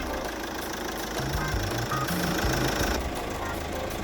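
A 2007 GM Daewoo Winstorm LTX 4WD with about 219,000 km idles, heard from the engine bay as a steady, close engine hum with a few short tonal beeps over it.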